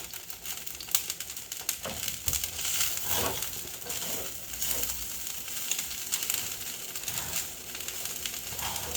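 Quinoa fried rice, alkaline vegan style, cooking in a pan, giving a continuous crackly sizzle with occasional scraping and rustling bursts, close up and without speech.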